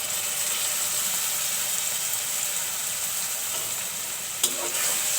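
Spice paste for a pufti fish and tomato curry fries in a pan with a steady, loud broadband sizzle that holds unbroken for the whole stretch, with one brief clink near the end and no voices.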